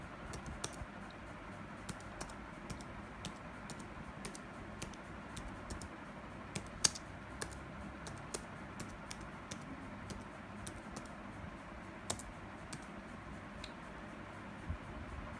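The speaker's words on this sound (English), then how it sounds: "type in the full meaning of the selected acronym" Text is typed on a computer keyboard in a word processor, heard as sparse, faint key taps scattered over a steady background hiss, with no voices.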